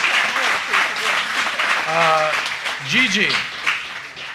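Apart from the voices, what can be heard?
applause for an answer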